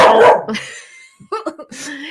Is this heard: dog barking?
yes